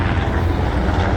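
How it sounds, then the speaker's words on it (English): Military helicopters passing over a city street in Bangkok's Ekkamai area, heard as a steady, loud, broadband rotor and engine roar that holds level without a break. "sounds like some military helicopters."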